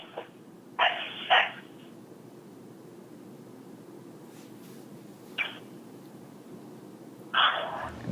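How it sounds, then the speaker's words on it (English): A dog's barks come through a thin, tinny voicemail recording: a few brief, clipped barks spaced apart over faint steady line hiss. "That's a period of time when you hear a snoozer, her dog, bark 2 times."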